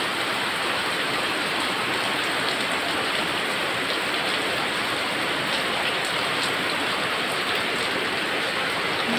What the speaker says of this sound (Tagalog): Pabugso-bugso talaga yung ulan dito guys.